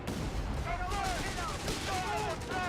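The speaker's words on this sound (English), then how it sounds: "Orbital bombardment, man." Orbital bombardment explosions and battle gunfire in a Company of Heroes 3 tournament match, dense continuous booms and crackling blasts with whistling streaks, heard under excited commentary.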